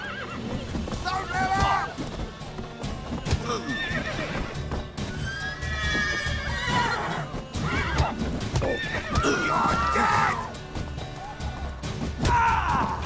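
Horses neigh and whinny repeatedly in The Witcher 3: Wild Hunt video game, loud and close, over clattering hooves and scuffling, with voices talking throughout.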